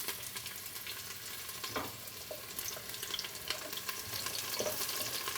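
Garlic sizzles steadily in hot oil for an Ethiopian whole-lentil alicha stew, a close, even crackle with scattered small pops and a few louder spits, no voices.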